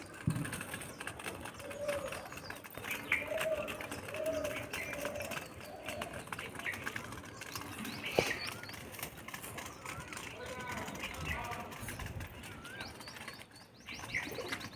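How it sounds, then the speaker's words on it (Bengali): Pigeons being fed fresh rice coo softly and intermittently, with occasional chirps and a brief flutter of wings, while a person talks nearby. "দেখো পায়রাগুলো খাচ্ছে"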